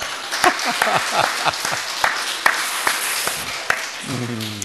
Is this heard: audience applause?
yes